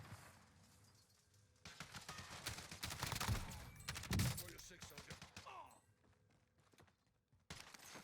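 Kilo 141 assault rifle fire in the video game Warzone: scattered bursts and single shots, fairly faint, mixed with other in-game noises and movement.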